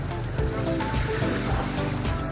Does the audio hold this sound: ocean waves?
yes